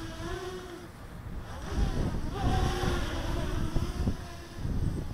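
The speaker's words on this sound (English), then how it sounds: "Ooh, wind." Wind gusting during an outdoor flight of an EMAX Nighthawk Pro 280 drone, a broad rushing roar with buffeting microphone noise that rises and falls, steady throughout with no speech.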